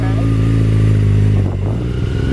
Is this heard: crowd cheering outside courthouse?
no